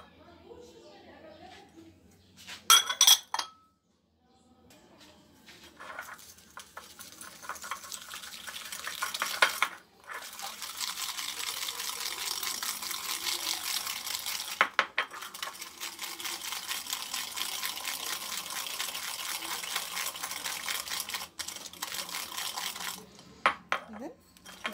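Sugar being stirred together with another ingredient in a bowl for a chilled chocolate mousse dessert, heard as a steady close scraping and clinking of a utensil against the bowl that runs for long stretches, broken by brief pauses and a few sharper knocks.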